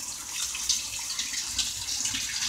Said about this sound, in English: we know that the cold water valve is good because we can hear it